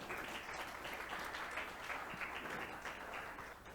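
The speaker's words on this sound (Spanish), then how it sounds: "Un aplauso para recibirla, por favor." Audience applause at a meeting on inclusive hiring: steady, dense clapping from a room of people, fairly quiet and continuous, tapering slightly at the end.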